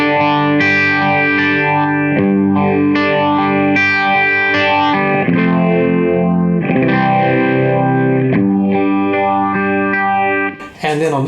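Electric guitar from a Les Paul run through a Strymon Mobius modulation pedal set to a Phase 90–style phaser, playing a sustained, distorted chordal riff with sweeping swirl, loud and continuous, cutting off briefly near the end.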